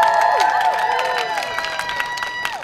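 A street-show crowd on the Venice Beach boardwalk in California cheers and claps after a performance, a dense burst of whoops and applause that gradually thins out.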